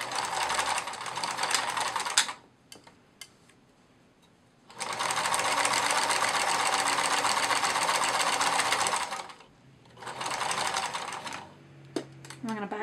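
A sewing machine back-stitches seams on a plush otter toy in three loud, steady bursts, separated by pauses with faint handling sounds; a few brief sounds come at the end.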